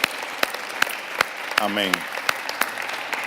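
Applause for the teachers during a church service, mostly sparse, sharp individual claps spaced through the moment, with a brief spoken voice in the middle.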